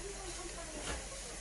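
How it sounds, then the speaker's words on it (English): Vegetables frying in a pan give off a steady, faint sizzling hiss that runs unbroken through the short moment. "I always put some kind of vegetable in them, and I fry up the vegetable."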